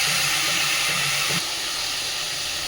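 Spice paste for a small-potato dum being fried down in a pan gives a steady, loud, close sizzling hiss that carries on without pause.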